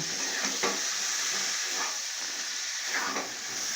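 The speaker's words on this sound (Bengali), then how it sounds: "এইভাবে আমি কিছুক্ষণ কষে নেব।" Masala and jackfruit sauté in a pan for echor chingri, a steady bright sizzle with a few soft stirring scrapes breaking through at intervals, close and without talk.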